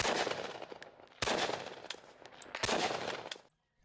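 Long bursts of heavy automatic gunfire, loud and close, three sustained volleys with brief gaps between them, no voices.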